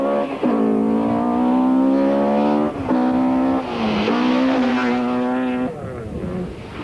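A Ford rally car on a stage lined with sugarcane fields roars loudly past, its engine holding a strong steady drone with gear-change dips before the note drops away as it passes.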